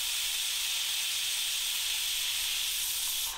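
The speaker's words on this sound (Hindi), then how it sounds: "प्रेशर कुकर का आप ढक्कन लगा देना और हाई फ्लेम पर लगभग 2 से 3 सीटी आपने देनी है" Steady, loud hiss of steam escaping a pressure cooker on a high flame while jackfruit sabzi cooks, a continuous broadband rush with no pauses and no voices.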